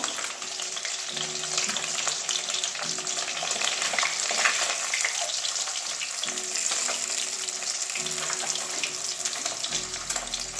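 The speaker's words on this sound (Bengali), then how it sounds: "বাকি মাছগুলো আমি ওইভাবেই ভেজে নেবো" Katla fish pieces frying in hot oil, a continuous loud sizzle and crackle with occasional stirring or handling sounds, close up and without talk.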